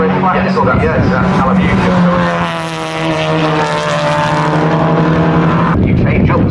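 TCR touring race cars at Snetterton during a BRSCC race meeting roar past with loud, steady engine drone and shifting harmonic tones as gears change, with a commentator talking over the track noise.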